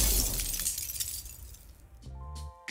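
Ice magic impact sound effect: a big cinematic hit layered with ice crunching at varied pitches, a low bassy boom and massive glass impacts, decaying over two seconds before bright sparkly tinkling chimes ring out at the end.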